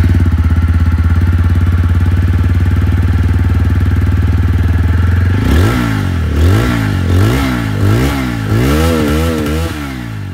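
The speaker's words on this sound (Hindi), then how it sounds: "तो दोनों की जो एग्जॉस्ट साउंड है दोस्तों वो आप लोग को सुना दूं। स्टार्ट करते हैं विद अपाचे।" A 2024 TVS Apache 160 4V motorcycle with an underbelly exhaust idles loudly and steadily for about five seconds, then gets several quick throttle blips that rise and fall in rapid succession, heard up close and without talk.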